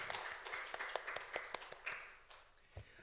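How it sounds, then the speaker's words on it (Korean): Scattered claps from a small church congregation after a sermon prayer, sparse, fairly quiet individual hand claps in an irregular rhythm that fade out toward the end. "하나님께 영광의 박수를 드리겠습니다."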